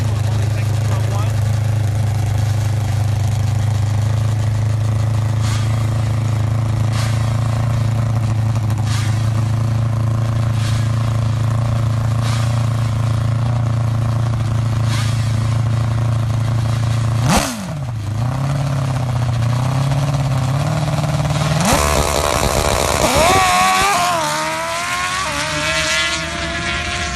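Pro motorcycle drag racing bikes at the 2016 SCSDA Mayhem at Soboba give a loud, steady engine drone, with sharp rev swells near the end, likely under announcer talk.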